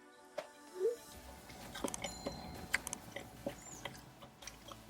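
Close, quiet chewing of a bite of Jack in the Box spicy, sauced and loaded potato wedges, soft crunches and wet squishes scattered irregularly across the clip with no talking.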